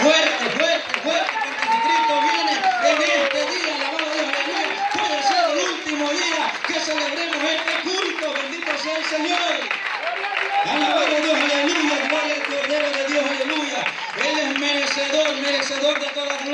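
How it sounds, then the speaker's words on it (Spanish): A church congregation applauds together during a lively worship service, steady clapping sustained for a long stretch beneath loud singing and a leader's voice. "le podemos dar un aplauso al Padre, al Hijo y al Espíritu Santo"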